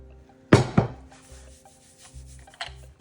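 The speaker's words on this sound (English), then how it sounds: "You have to flour your cloth, kind of rub it in" Flour being rubbed by hand into a pastry cloth, a couple of close, soft brushing swipes followed by quieter rubbing and light scuffing, with faint background hum.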